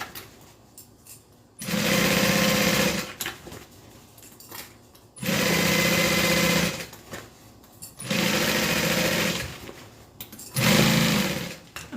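A sewing machine stitches quilted fabric in four loud, even bursts of steady whirring, each lasting a second or two, with short quiet pauses between them as the work is turned.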